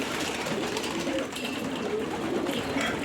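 Pigeons coo steadily at a pigeon farm in Qatar, their soft overlapping calls forming a continuous close murmur throughout.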